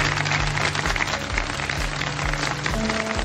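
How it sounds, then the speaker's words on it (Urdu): Studio audience applause on a Pakistani TV news talk show, steady crowd clapping filling the whole moment, loud and continuous with no voices over it. "بہت بہت بہت ساری تالیاں دیجیے"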